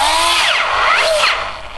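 A cordless battery drill converted to run from mains power spins at full speed, a loud whining motor with rising and falling pitch sweeps as it is loaded and released, no talking.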